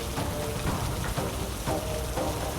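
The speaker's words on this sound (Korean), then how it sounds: "텅 빈 마당, 그리고 쏟아지는 빗줄기." Heavy rain pours down in an empty yard for a horror radio drama, a dense, loud, steady downpour with recurring swells of heavier gusts.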